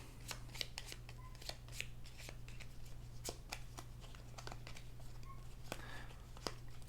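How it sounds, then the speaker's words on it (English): Cards being shuffled by hand for a Gloomhaven Jaws of the Lion board game session, a series of quick close riffling and snapping bursts over a quiet steady hum. "So we will do our shuffling beforehand like we're supposed to"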